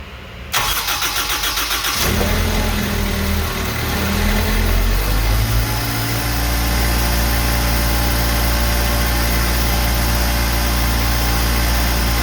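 A Zamboni 546 ice resurfacer's heavy engine cranks, catches and roars to life cold, then settles into a loud, steady rumbling idle.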